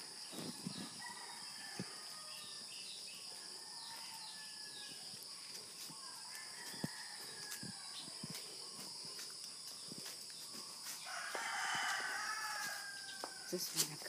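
A rooster crows a few times at a distance in a rural yard, its calls faint over a constant bed of buzzing insects and crickets, with occasional soft knocks nearby.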